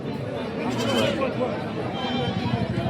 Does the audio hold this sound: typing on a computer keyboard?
no